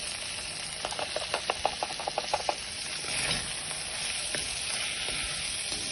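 Beef browning in a stew pot with spices, a low continuous sizzle broken by a quick series of about eight sharp scraping stirs, then quieter frying.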